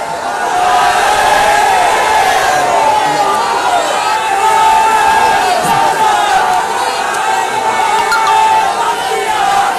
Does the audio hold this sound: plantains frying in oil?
no